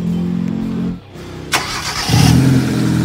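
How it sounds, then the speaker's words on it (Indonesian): A 2011 Hyundai Avega GX engine running near at hand, an even mid-pitched idle that dips briefly, then catches again with a short rev before settling back to a steady hum. "Ini suara mesinnya"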